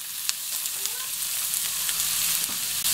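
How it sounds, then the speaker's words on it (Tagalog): Carrot and potato pieces fry in hot oil, a dense, steady crackling sizzle heard up close and alone for a few seconds. "Unang gagawin po natin ay iprito itong carrot at potato."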